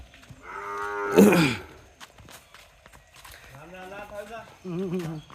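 A cow lows at a crowded cattle market, one strong moo rising over the bustle, followed by further lowing calls amid nearby talking voices and shuffling hooves.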